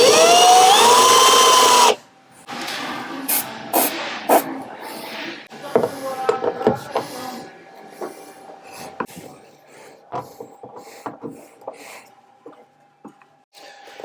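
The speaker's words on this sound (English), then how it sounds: "I'm going to drill some holes now for my riv nuts" A loud whine at the start, then scattered drill bursts drilling holes for rivet nuts, clanks and knocks of metal work, close by, with a steady background hum.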